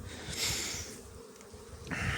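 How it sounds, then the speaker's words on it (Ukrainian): Honey bees buzz as they fly off hive frames carried from the hives to a trailer during a linden honey harvest, a close, loud droning hum that swells and fades as individual bees pass near. "Поки звід там їх від вуликів доніс на прицеп, то майже вся бджола злітає з рамок"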